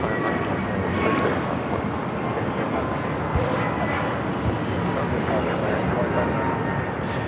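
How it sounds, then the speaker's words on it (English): American Airlines Airbus A321neo jet taking off from LAX, a steady, moderately loud engine rumble that holds evenly throughout. "This is American Airlines 2596 taking off to Charlotte on the A321neo"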